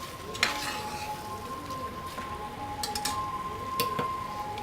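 Chopped capsicum being stirred into a chicken filling in a pan off the heat, with soft scraping and faint sizzling, a few light utensil clinks against the pan throughout.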